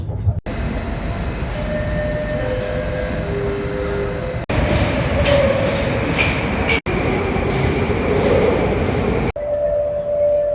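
Moscow metro train on the central line running loudly at close range, a steady dense roar of wheels and car rumble with faint tonal whines and brief squeals, continuous with a few abrupt shifts.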